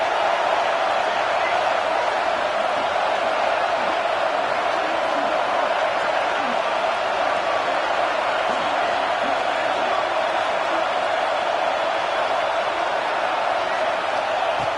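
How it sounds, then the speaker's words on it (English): A stadium crowd in an NCAA college football video game roars on third down, a dense, unbroken wash of cheering that holds steady and loud throughout. "Third down and the crowd really getting into it."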